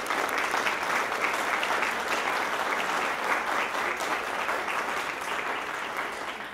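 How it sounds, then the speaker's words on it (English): Audience applause fills a board meeting room after a youth volunteer nomination is announced, a dense, steady wash of many hands clapping at even loudness that tapers slightly toward the end. "So a round of applause, please."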